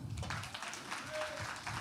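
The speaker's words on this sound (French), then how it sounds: "Myriel et Clovis, qu'on demande d'applaudir, s'il vous plaît." Applause from a crowd at an evening campaign event, a steady patter of clapping that runs the whole moment at moderate level with some voices mixed in.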